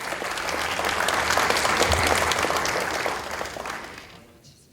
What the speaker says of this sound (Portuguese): Recebam os nossos aplausos também